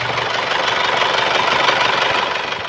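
A 1997 Isuzu Panther 2.5 diesel engine in good condition idles steadily up close, with a continuous clattering drone and no voices.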